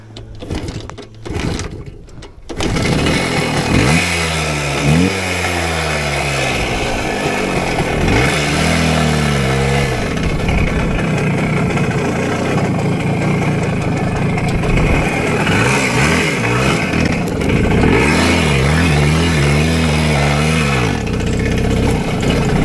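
A Voskhod two-stroke motorcycle engine drones loud and close during a ride toward a swamp, revving and easing with steady rasping buzz throughout, after a brief rough start.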